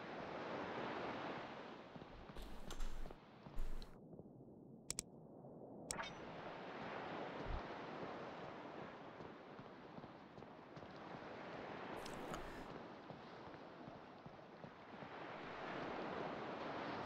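Ocean waves at sea in the video game Salt 2: Shores of Gold, a continuous rushing surf and wind wash, steady and fairly loud, with brief breaks and no talk.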